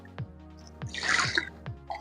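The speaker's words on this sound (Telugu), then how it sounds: "దీంట్లో కొన్ని వాటర్ పోసుకొని" Water is poured into a masala gravy of cashews, coconut and poppy seeds, making a short splashing gush between soft drips and light taps, close by with no one speaking.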